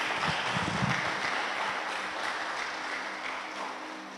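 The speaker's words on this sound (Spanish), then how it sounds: "Démosle unas fuertes palmas de ofrenda al Señor" A church congregation claps loudly in steady, dense applause offered up during a Sunday service, sustained and close throughout.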